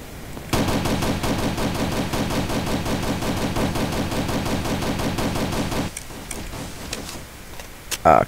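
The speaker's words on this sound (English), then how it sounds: "Someone just shot off a mortar." Rapid gunfire in the video game Battle For Survival, with a mortar launched amid the shooting: a dense, steady burst of repeated shots for about five seconds, then sparser scattered reports.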